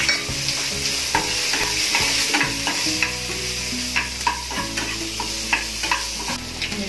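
Onion frying in a pan with urad dal, turmeric and asafoetida sizzles steadily while a spoon stirs and scrapes in repeated sharp clacks, close and clear with no talk.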